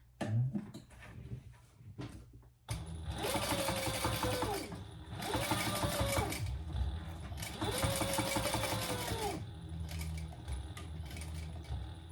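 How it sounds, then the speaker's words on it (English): A sewing machine top stitching a small sling pouch, running in three long, steady whirring bursts with brief pauses between them, loud and close, after some quiet handling noises at the start. "I am going to do the top stitching right here"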